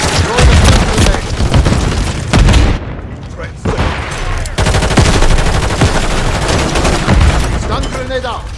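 Rapid automatic gunfire rattles loudly in a first-person video game shooter, with bursts and booms running almost continuously and a brief dip partway through, mixed with in-game voice callouts.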